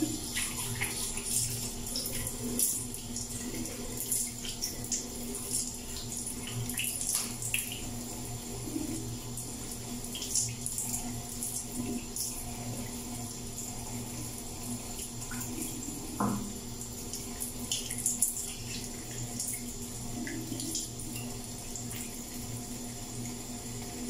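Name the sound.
rinsing face with running tap water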